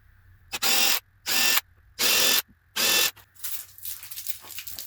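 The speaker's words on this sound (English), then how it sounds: "I'm going to pre-drill some of the holes." Power drill pre-drilling screw holes in a telescope base, heard as four short, loud, evenly spaced bursts followed by softer rattling and handling noise.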